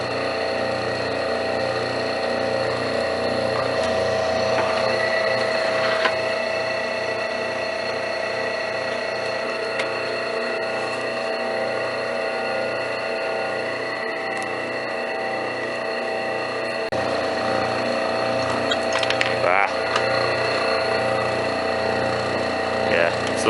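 An automatic wire stripping machine runs steadily with a constant mechanical hum and faint rhythmic pulsing as wire is fed through, loud and continuous for over twenty seconds.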